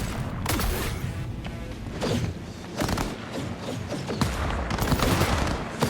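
Rapid gunfire fills a Cyberpunk street fight, dense overlapping shots and thuds crackling continuously at close range with little pause, loud and chaotic.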